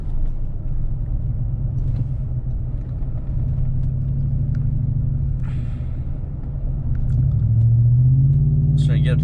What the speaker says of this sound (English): Trying to get up to 30 miles an hour and just, you know, hit the brakes and slow down.